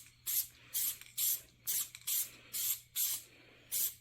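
Tan base coat is sprayed from a can onto a degreased part before hydro dipping, eight short hissing bursts in an even rhythm, close and clear.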